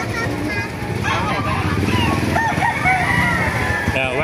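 Roosters crow repeatedly amid a noisy, crowded gamefowl market in Baliuag, Bulacan, with people talking nearby throughout.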